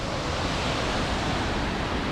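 Steady broadband rush of a waterfall on a mountain climb in the Alps, constant and fairly loud for its whole length, with no voices or other sounds on top.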